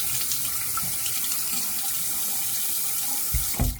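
Water runs steadily from a tap for a rinse, a close, even hiss of flowing water that ends with a couple of brief splashy clunks, no talk.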